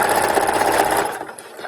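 A sewing machine stitches a leotard costume in a fast, steady mechanical whir with a buzzing rhythm, running close and clear before slowing and fading out near the end.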